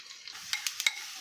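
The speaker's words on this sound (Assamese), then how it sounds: "এতিয়া পিঁয়াজখিনি পূৰা ভাজিব লাগিব।" Onions fry in ghee with a quiet hiss while a utensil stirs them in several quick, separate scrapes and taps, close and brief.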